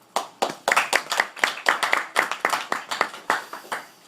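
An audience claps to welcome a speaker, in a lively run of distinct claps that starts sparse, builds quickly and fades out after about four seconds.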